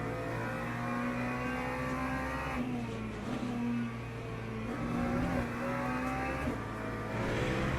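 Race cars lap in Le Mans Ultimate, a steady engine drone rising and falling through gear changes and accelerations, with a brief tire squeal and another car passing close by; no talk.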